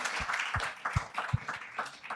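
Scattered clapping from a small group at a climatetech showcase, a handful of distinct, fairly loud claps standing out over a thin, soft patter.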